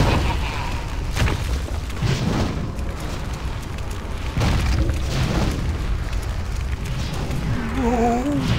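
Bombs exploding in World of Warcraft Classic, several booming blasts spaced a second or two apart, with game voices and effects around them.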